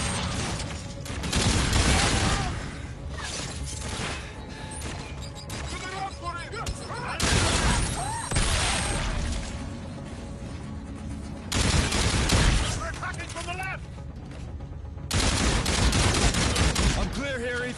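Loud bursts of video game gunfire arrive in several separate volleys, rattling automatic fire with mechanical clatter between them, while voices speak faintly underneath.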